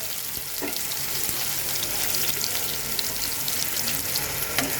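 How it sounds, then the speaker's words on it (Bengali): Chopped onion and green chili fry in hot oil in a pan, a steady bright sizzle with faint crackles, continuous and close. "পেঁয়াজটাকে আমি খুব সুন্দর করে ভাজবো"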